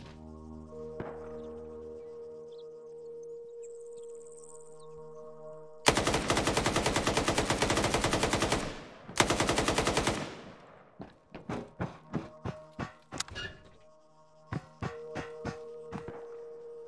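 Video game gunfire: two long, loud bursts of rapid automatic fire, then a string of separate single shots and short volleys, with a steady low electronic hum before the shooting begins.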